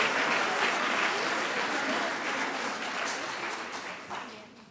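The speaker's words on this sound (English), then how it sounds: "Let's clap for our students, please, and all their hard work." An audience at a high school spring choral concert applauds, a steady wash of many hands clapping that fills the hall and slowly fades toward the end.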